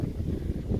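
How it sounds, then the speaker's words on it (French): Wind rising across the deck of a C&C 36 sailboat, a dense low buffeting rush that pulses unevenly against the microphone, loud and close, with no voices. "Le vent se lève"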